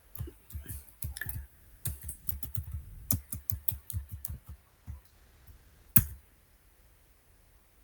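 A computer keyboard is typed on in quick irregular bursts of close, crisp key clicks, pausing briefly, then ending with a louder single tap and quiet.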